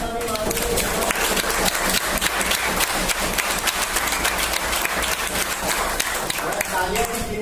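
A church congregation at a prayer meeting claps loudly and steadily throughout, with brisk continuous applause from many hands and some voices mixed in.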